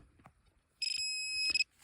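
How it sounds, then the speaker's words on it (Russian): A metal detector gives one loud, sustained electronic tone lasting just under a second amid faint outdoor quiet, preceded and followed by soft rustling. "Щось піка."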